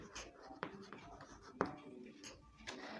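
Pen scratching across paper while writing out a maths solution, with soft, uneven strokes and a couple of sharper taps, quiet and close against faint room noise.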